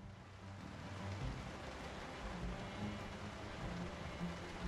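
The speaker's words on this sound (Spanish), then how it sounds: "Está lloviendo ya más fuerte." Steady rain falls in the survival video game Project Zomboid, a continuous broadband hiss with low rumbling underneath, holding an even, moderate level throughout without breaks or voices.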